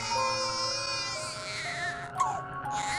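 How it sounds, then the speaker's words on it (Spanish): A baby cries in high, drawn-out wails that waver and fall, fairly loud over a low background hum, with a brief louder burst near the end. "una de las hermanas pudo escuchar un pequeño llanto"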